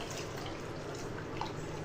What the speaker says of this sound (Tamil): தண்ணி ஊற்றிக்கலாம்.